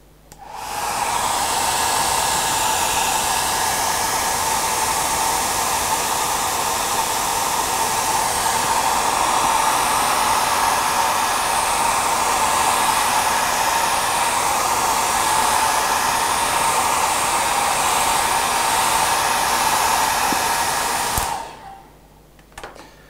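A hair dryer blows on a canvas to dry the base coat of acrylic paint, making a loud, steady whooshing roar that runs unbroken for about twenty seconds before switching off, close and alone.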